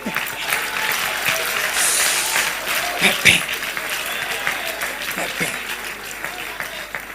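Sustained applause from a rally crowd after a political speech about the 2023 election, dense clapping filling the space with a few louder claps and scattered voices mixed in, steady throughout.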